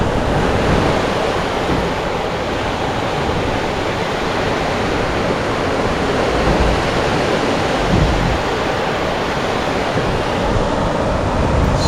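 Sea surf beside a tropical resort in Thailand, a steady, close, full wash of breaking waves rolling on without pause and with no voices.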